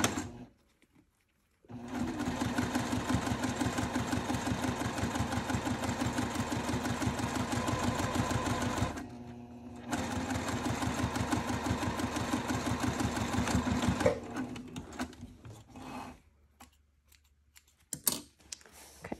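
A sewing machine stitches crossbody bag fabric in two long, steady runs of rapid needle pulses, close and loud, split by a short pause and ending with a few scattered handling clicks.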